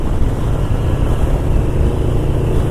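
Steady loud low rumble of a 2005 Yamaha V-Max motorcycle engine while being ridden, a continuous drone with wind noise and no talk.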